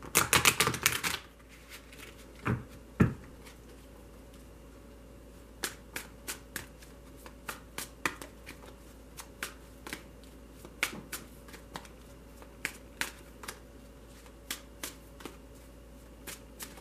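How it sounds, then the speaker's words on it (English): A fairly new tarot deck being shuffled by hand, a burst of riffling at the start followed by a quiet series of soft, separate card taps and slides at a steady pace. "These cards are fairly new, so they don't shuffle as well."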